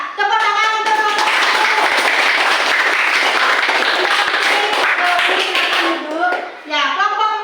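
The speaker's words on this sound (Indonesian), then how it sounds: "Tepuk tangan untuk kelompok" A classroom of fifth-grade pupils applauds a student group with sustained dense clapping for about six seconds while children's voices call out over it, then the clapping tapers off.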